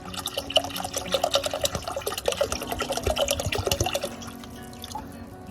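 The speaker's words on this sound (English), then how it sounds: "So I'm taking all of our little water bottles and dumping them in the Berkey." Bottled spring water glugs and splashes continuously as it is poured into a Berkey gravity water filter, a busy pouring stream close by that thins to lighter trickles near the end.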